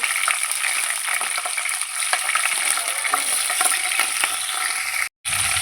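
Long green chillies sizzle and fry in hot oil in a pan, a steady bright crackle running throughout with occasional stirring, close and loud, briefly cut off near the end.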